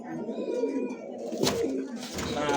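Pigeons, a male and a female, coo close by in soft, throaty rolling calls, with a voice murmuring in the background.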